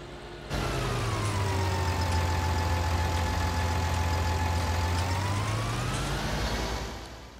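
A tractor engine idles in Farming Simulator 19, a steady loud drone with a low tone that dips and rises slightly, starting abruptly and fading at the end.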